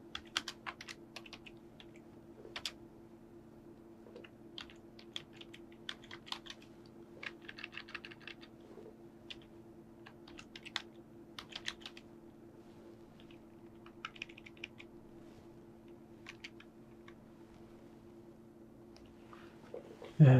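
Code is typed on a computer keyboard in a deep learning practice session: irregular, fairly quiet keystrokes clatter in scattered runs over a steady electrical hum, ending with a louder clack.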